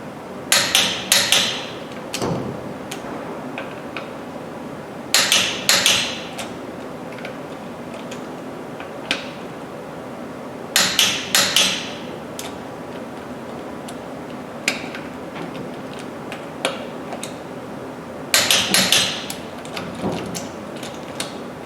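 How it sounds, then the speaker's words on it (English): Torque wrench on wheel lug nuts during a tire install, tightened in a star pattern. Sharp metallic clicks come in short clustered bursts every few seconds, with lighter single ticks between them, close and fairly loud, and no talk. "What we're looking for is a click. That would show that that's torqued."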